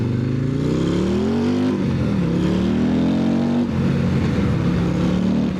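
A built Harley-Davidson 135 CVO motorcycle accelerates hard, its deep engine note climbing through the revs, dipping briefly at a shift, then pulling up again, loud and close throughout with steady wind roar.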